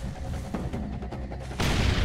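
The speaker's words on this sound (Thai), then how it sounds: "ระเบิด" A grenade explodes in the video game Far Cry 2 with a sudden loud boom that follows a stretch of muffled rumbling and thuds.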